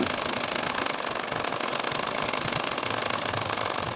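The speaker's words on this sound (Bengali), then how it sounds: "এখন আড়াআড়িভাবে সেলাই করে নিব" A sewing machine stitches crosswise rows across a nakshi kantha quilt, giving a rapid, steady mechanical rattle that runs without a break at moderate loudness.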